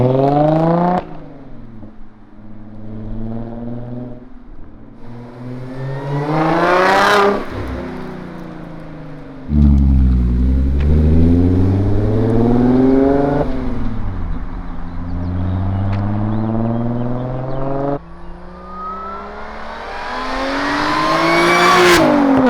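Dodge Hellcat engine revved hard several times, each pull climbing steeply to a loud high-pitched scream before dropping back to a rumbling idle, heard up close with no talk.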